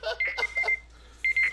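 Electronic buzzer beeping, short sharp tonal pulses in a broken rhythm, loud and close, with a brief pause before another pair of beeps.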